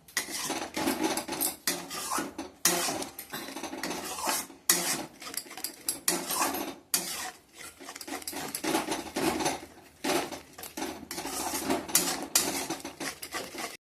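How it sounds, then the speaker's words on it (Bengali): Spice paste for paneer butter masala, loosened with milk over medium heat, is stirred and scraped hard in a pan. A utensil grinds against the metal in rhythmic, uneven strokes, close up and with brief pauses. "এটা দিয়ে মশলাটা আমি ভালো করে কষিয়ে নিলাম"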